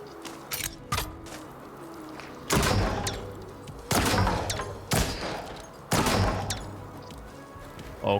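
Gunfire rings out at a shooting range in a VR game, with loud single shots and short bursts spaced a second or two apart and mechanical clicks and thumps between them.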